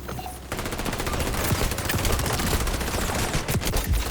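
Gunfire in the shooter game XDefiant, including a double-barreled shotgun, forms a dense, continuous rattle of rapid shots and impacts after a brief quieter start, loud and sustained without talk.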